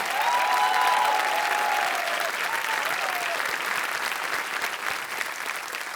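A TV game show studio audience applauds loudly and steadily, the clapping fading slightly toward the end, with a voice faintly audible early on.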